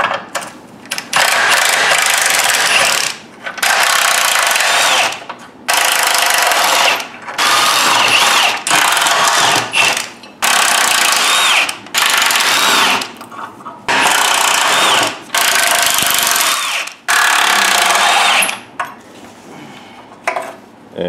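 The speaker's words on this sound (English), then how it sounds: "These are all 14mm bolts. Everything here. So we're going to take those off now." Loud power tool, likely an impact gun or drill, running in repeated bursts of two to three seconds with brief pauses between, removing 14mm bolts from a Honda Accord steering rack during rusted subframe replacement; no talking.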